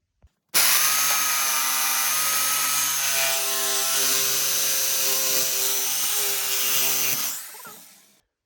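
A jigsaw cuts through a vinyl flooring plank in one steady, loud, whining run of about six and a half seconds, starting abruptly and then winding down at the end, with no talking.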